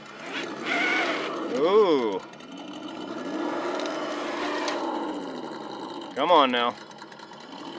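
A small RC car's electric motor whines at full throttle as it churns through soft mud, the pitch rising and falling in two sharp revving bursts over a steady drone, with someone talking over it.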